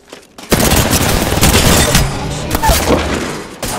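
Rapid gunfire in the Apex Legends video game, a loud burst of automatic shots that hits suddenly and stays dense, with sharp cracks and booms layered together at close range.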